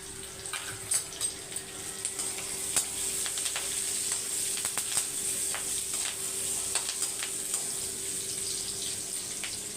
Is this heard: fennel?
yes